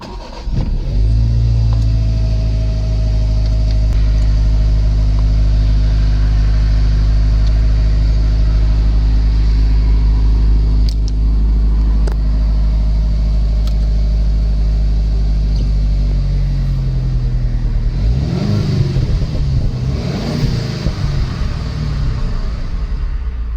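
A Phase 1 Jaguar F-Type V6 sports car idles outdoors with a deep, steady exhaust rumble close by. Near the end it blips the throttle with a few quick revs.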